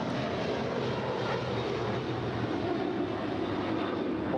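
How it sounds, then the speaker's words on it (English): A Qantas Airbus A330-200 jet in oneworld livery departs LAX for Brisbane, a steady distant roar of engines that holds a constant, broad rumble throughout. "that is Qantas Flight 56 departing to Brisbane on an A330-200 in the One World livery"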